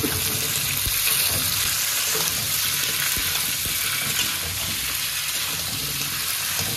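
Potatoes and onions frying together in a pan for a spiced potato curry, a steady loud sizzle and crackle with scattered stirring clicks running unbroken throughout.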